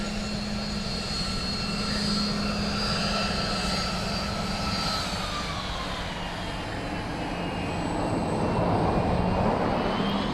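An airliner landing at Dublin Airport roars steadily at a distance, a continuous broadband engine rumble with whining tones that slowly shift in pitch and swell slightly toward the end.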